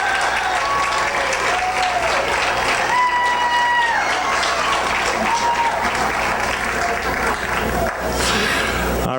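A live audience applauds the stage-hands at the Miss Amador pageant, a dense, steady round of clapping that runs the whole stretch with a few faint cheers and tonal stage sounds mixed in.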